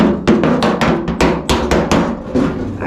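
A hammer used as a dolly taps out a dent in a car body panel, about a dozen close, sharp metallic strikes in a steady, fairly quick rhythm.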